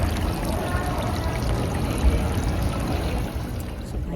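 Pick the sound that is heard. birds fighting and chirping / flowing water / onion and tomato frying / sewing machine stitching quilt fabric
flowing water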